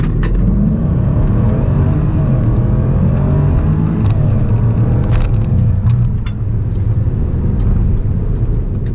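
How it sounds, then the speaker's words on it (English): 2017 supercharged Range Rover Sport accelerating hard from 0 to 100, heard from inside as a loud, steady engine roar with low rumble and whir that stays strong throughout, with no talk. "So we're gonna try the acceleration from 0 to 100."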